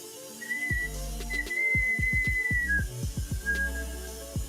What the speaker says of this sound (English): Got a little baby whistle out of that.